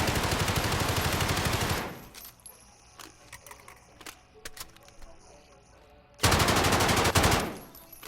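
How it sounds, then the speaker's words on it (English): A heavy-recoil gun in Modern Warfare fires a long loud automatic burst, goes quiet apart from scattered clicks and clinks, then fires another close, punchy burst that cuts off. "So of course this is a gun with a bit more recoil on it."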